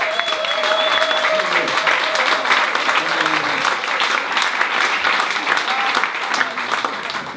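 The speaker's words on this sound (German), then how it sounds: "Bitte begrüßen Sie mit einem Riesenapplaus Aziz Tario" A large audience at a comedy show finale breaks into sustained, dense applause to welcome a comedian to the stage, steady and loud throughout with faint voices mixed in.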